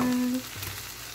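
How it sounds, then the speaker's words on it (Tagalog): Food sautés in a home pan with a soft, close hiss; a brief utensil scrape sounds near the start, and the sizzle continues steadily and fairly quietly to the end without speech. "Nagigisa po."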